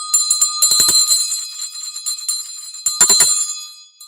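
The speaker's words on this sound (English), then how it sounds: "Ha, I got to ring the bell." A bell on a 1958 Singer 404 sewing machine setting rings in repeated bright, resonant strikes, clustered early and again near the end, with lingering metallic tones between hits and no talking.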